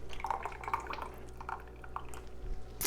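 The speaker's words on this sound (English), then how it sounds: "let's fill the jars." Liquid being poured into canning jars to leave a quarter-inch headspace, a soft continuous trickle with scattered drips and splashes, close and moderately quiet, with no talking.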